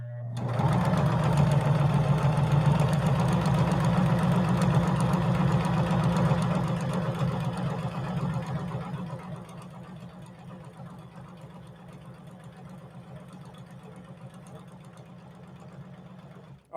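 A Juki HZL-353ZR-C sewing machine runs through a stitch with a steady, fast mechanical whir and hum. It sounds loud at first, then drops to a quieter level partway through before stopping at the end.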